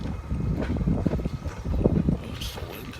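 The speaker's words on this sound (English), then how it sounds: "the wind is cold out" Cold wind blows outdoors as a steady broadband rumble and buffeting against the microphone, with gusts swelling and easing throughout and no talk.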